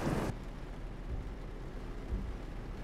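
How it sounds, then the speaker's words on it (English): Heavy rain falling steadily in Euro Truck Simulator 2, a constant dense roar with a brief louder gust at the start and faint low thumps underneath. "Oh wow, it rains loud."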